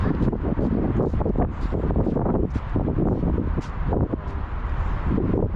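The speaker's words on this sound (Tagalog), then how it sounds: "Mahangin lang dito guys." Steady, loud wind buffets the microphone at the Moncloa Lighthouse in Madrid, Spain, a constant low roar with gusty fluctuations throughout and no clear talk.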